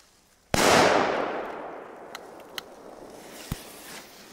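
A single loud La Bomba firecracker blast rings out and decays over a second or two, followed by a few small, scattered pops.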